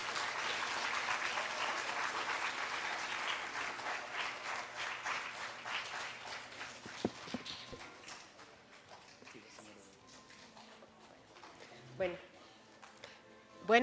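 An audience at a public conversation and exhibition event breaks into loud, sustained clapping that slowly thins out and fades, followed by quieter room noise and a few stray claps.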